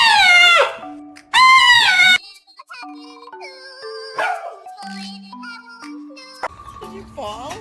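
Dogs react to someone in a Trump mask with two loud, rising-and-falling howling yelps close by, followed by quieter scattered tonal sounds and short pauses.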